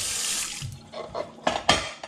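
A kitchen tap runs briefly while dishes are washed at home, a short hiss of water that cuts off, then a few soft clinks and splashes of dishware being handled in the sink.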